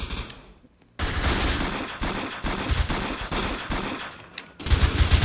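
Bursts of rapid gunfire in the video game Emergency Response, loud repeated volleys of shots with brief pauses between, starting after a quiet moment.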